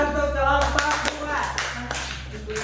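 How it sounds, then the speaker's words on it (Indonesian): A classroom group gets a short burst of applause, quick scattered claps under a faint murmur of voices. "Tepuk tangan untuk kelompok"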